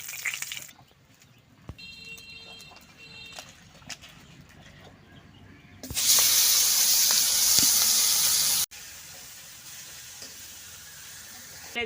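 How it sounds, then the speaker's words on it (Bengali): Snakehead fish fries in oil in a village kitchen with a steady crackling sizzle, quieter and scattered at first, then a loud dense hiss for a few seconds before it drops back to a softer fry. "এই শোল মাছ ভাজি শোল মাছ ভাজি অল্প ভাজি করতেছি"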